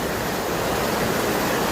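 Excess rainwater from heavy Delhi rain pours underground into a 10,000 liter tank, a loud, continuous broadband rush of flowing water close by with no break.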